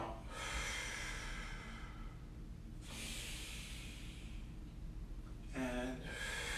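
Slow breathing during a mobility stretch session on a hip-rotation and couch-stretch routine, with two long hissing exhales and a shorter breathy gasp near the end, close and fairly quiet over a low background rumble.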